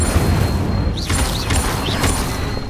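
Incendio fire spells cast in Hogwarts Legacy burst out in loud, booming whooshes over a dense game soundscape, with a few sharp bright flourishes repeating about every half second.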